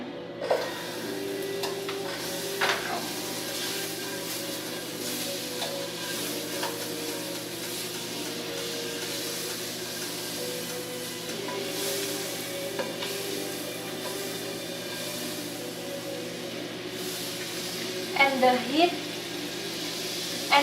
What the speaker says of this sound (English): And while I cook this apple